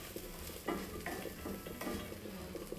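Garlic sizzling in a pot as a white bean soup base cooks, a steady close fry with scraping stirs of a utensil at irregular intervals.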